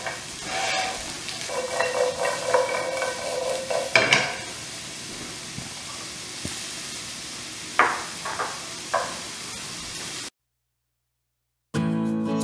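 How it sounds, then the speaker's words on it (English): Carrots sizzle in a frying pan while being tossed and shaken for Vietnamese macaroni soup, a steady crackle broken by a few scraping knocks of the pan, then a short silence. "Put the carrots in the pan and then toss around so it won't fall. Go ahead and shake the pan."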